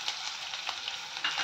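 Capsicum pieces fry in a pan with salt and turmeric for capsicum lemon rice, giving a steady close sizzle with light stirring scrapes and small crackling bursts throughout, no voices.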